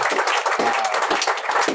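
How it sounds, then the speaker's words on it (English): An audience at a fintech and blockchain evening event applauding a panel, a brief burst of close, brisk clapping from a modest crowd, steady throughout. "Let's give a big round of applause to our panel"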